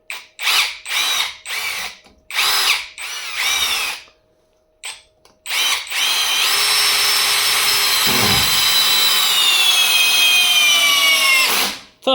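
A small LEADER cordless impact screwdriver rated at 45 Nm, set to torque 20 and second speed, drives a small screw. Several quick, loud motor bursts lead into one sustained whine of about six seconds whose pitch sinks before it stops.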